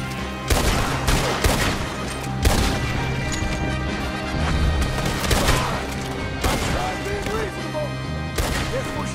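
Gunfire in the Red Dead Redemption 2 video game, with repeated sharp shots and bursts of fusillade at irregular intervals amid crashes, loud and close, mixed with shouting voices.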